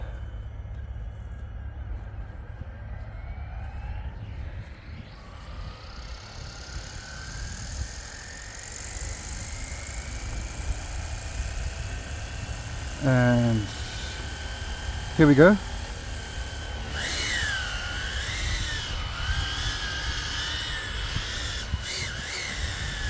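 A Flywing Hill HX50-style RC model helicopter spools up with a rising whine and a buzzy rotor drone, its tail rotor noisy; a voice speaks briefly early on, and the pitch wavers as it flies.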